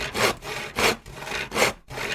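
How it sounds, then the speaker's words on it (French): A hand saw cuts through firewood being stocked for a fireplace, three loud rasping strokes in a steady back-and-forth rhythm with brief pauses between them, close by and with no voices. "avec une scie, vous faites l'action de couper du bois en plusieurs morceaux"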